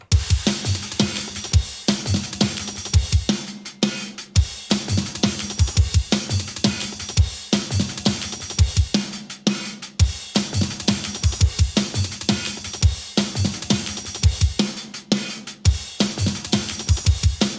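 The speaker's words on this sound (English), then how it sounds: "here is the breakbeat that I used before in full force." A punchy breakbeat drum loop with tight kicks, snares and hi-hats repeating in a driving rhythm, loud and continuous with no voices.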